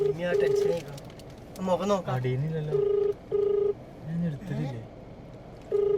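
Repeated flat electronic ringback tones in steady bursts from a phone call, with a person talking between and over the rings.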